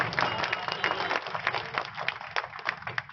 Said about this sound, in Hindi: अपने लिए भी एक बार ताली बजाओ।